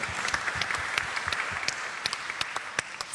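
An audience at an energy panel during London Climate Action Week breaks into applause, a steady patter of many hands with sharper individual claps standing out, moderately loud and without voices over it.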